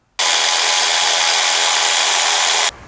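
A power tool loosens the fuel rail bolts on a Nissan Pathfinder 3.5L V6, running in one loud, continuous whir for about two and a half seconds before cutting off abruptly, with silence on either side.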